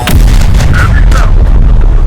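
Sustained heavy gunfire and rumbling blasts in the Terminator Dark Fate Defiance video game, loud and continuous for a short burst, with faint radio-like voice chatter in the mix.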